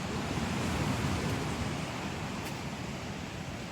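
Steady broadband wash of surf breaking on the beach at Katouche Bay, continuous and fairly loud with a slight fade toward the end, no voices present.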